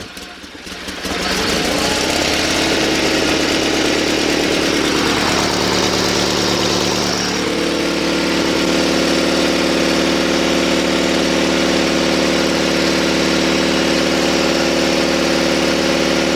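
Small engine of a Sears Suburban SS16 lawn tractor running and settling into a steady, close, loud idle with a constant droning hum.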